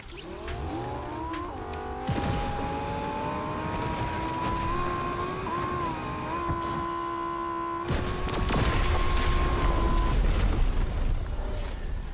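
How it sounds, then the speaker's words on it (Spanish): A car driven in Fortnite, its engine droning steadily with rising and falling pitch through gear changes, joined by tire squeals and rough road noise, loud and continuous throughout with no talking. "Vale, voy a pillar el coche."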